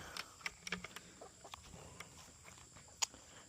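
Chicks and chickens in a backyard coop cluck softly with scattered faint peeps and light movement, heard at a distance with no talking.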